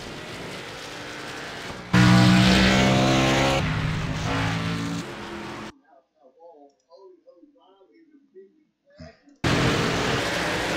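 Race trucks at New Hampshire in a Truck Series race, with the roar of engines and passing trucks mixed with crowd and announcer talk, broken by a quiet stretch of scattered sounds before the engine noise cuts back in.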